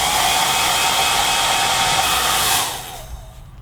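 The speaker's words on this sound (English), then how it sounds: "I'm going to hit it with a hair dryer, just right here." A hair dryer blows steadily and loudly at close range, a broad rushing whoosh that cuts off near the end, leaving a quieter hum.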